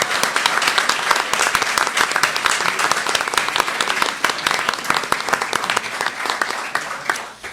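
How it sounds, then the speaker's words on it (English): Sustained, dense audience applause fills the room after a Montana Democratic U.S. Senate primary debate, a steady loud wash of many clapping hands that tapers off only at the very end. "Let's have one last round of applause for all of our fine candidates up"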